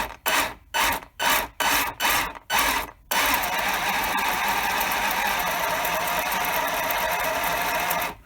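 A 2012 Traxxas Slash VXL 4x4 electric short-course RC truck motor whirs in about six quick throttle bursts, then holds a steady, loud, close mechanical whine with a gritty, rasping edge.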